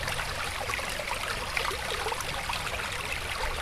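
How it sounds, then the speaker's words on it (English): A small outdoor stream runs steadily, giving a continuous close trickling and babbling wash of water with no voices over it. "Find a little bit of running water."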